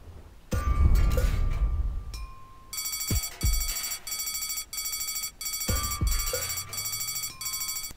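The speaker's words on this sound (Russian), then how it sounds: "the blast signal. Take cover! Imminent blast!" In the Deponia video game, a blast warning alarm rings in repeated, evenly spaced pulses of a shrill, bell-like tone, loud and clear, following a few louder impact sounds at the start.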